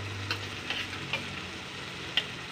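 Spice pastes of coriander, cumin and red chilli sizzle gently in a pan with fried onions for gota fish curry, a soft steady frying hiss broken by a few light stirring clicks.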